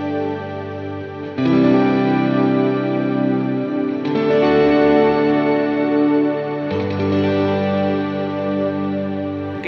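Electric guitar played through an Electro Harmonix POG2 octave pedal with upper octaves blended in for a shimmering tone, sustained chords changing three times, dense and steady with a bright effected sheen, no talking.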